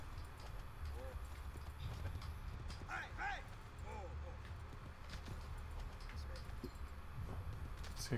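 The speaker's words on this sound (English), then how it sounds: "There's a horse." A horse's hooves clip-clop at a steady walking rhythm in the video game Assassin's Creed 2, moderately close under someone talking, with a brief whinny-like sound in the middle.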